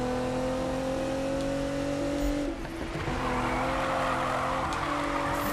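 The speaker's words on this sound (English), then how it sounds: "Drift around here, drifty wifty." A car drifts and revs in the Need For Speed 2015 racing game, a steady loud engine drone with tire squeal sweeping through the middle, with no talk over it.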